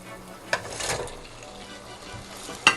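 Pieces of fried chicken drop into a hot pan with chili garlic sauce for Chicken 65, raising a brief sizzle and splatter between two sharp clatters, with no talking.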